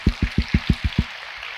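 A church congregation claps together in seven quick, evenly spaced, muffled beats, then falls quiet.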